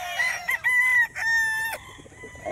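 A young gamefowl stag at a gamefarm crows nearby, one loud, clear cock-a-doodle-doo with a strained, stepped finish.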